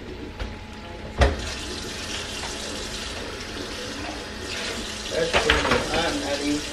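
Water runs steadily from a tap into a pot, a continuous close splashing rush with a few knocks of the pot, no clear talking.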